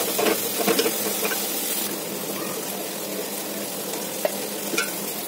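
Chicken frying in a pan alongside golden brown onions, a steady close sizzle and crackle with a few sharper pops and stirring scrapes, no talking.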